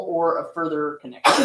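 A single sharp sneeze breaks out at the end of a stretch of speech, loud and close, during a talk in an amateur radio class.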